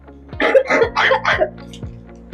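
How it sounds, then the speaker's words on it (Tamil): Four quick, harsh coughs close by in a tight burst, followed by quiet. "கொஞ்சோண்டு இருமிக்கணுமா?"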